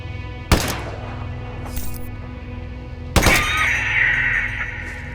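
Gunshots fired at vultures in a Hitman game: two sharp, loud cracks a few seconds apart, the second followed by a bright ringing, shattering tail.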